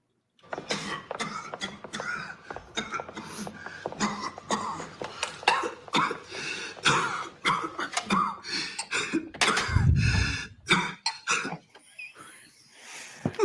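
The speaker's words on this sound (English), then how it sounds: "A patient starts coughing." Repeated coughing fits, close and harsh, coming in irregular bursts over a long stretch with brief pauses between them.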